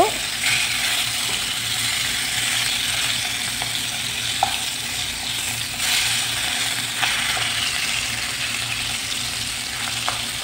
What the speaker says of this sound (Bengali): আর এইভাবে করে আমি মাছগুলো ভেজে নেব